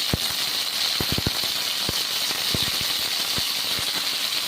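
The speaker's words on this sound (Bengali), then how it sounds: "এখন ভেজে নিচ্ছি সিম টমেটো গরম তেলে" Green beans and tomatoes fry in hot oil, giving a steady hiss broken by irregular sharp pops and spatters, close up with no talking.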